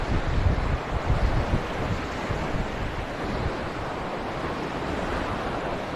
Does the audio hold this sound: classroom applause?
no